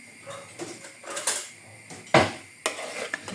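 A spoon stirs semolina and kefir in a bowl for a banana semolina cake batter, producing irregular clinks and scrapes against the bowl with a couple of sharper knocks, and no voices.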